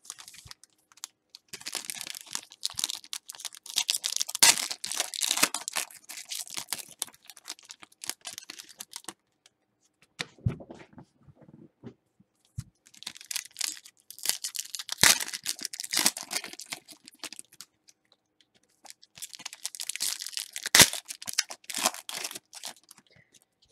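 A box of 2014 Panini Certified trading cards is torn and unwrapped, with repeated crinkling, ripping and crackling of packaging in three busy bursts, close and fairly loud, separated by a quieter pause of light handling.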